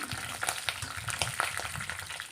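Dried red chillies and peanuts crackle and sizzle in a hot oil tempering for lemon pulihora, a steady close-up frying hiss with scattered sharp pops throughout.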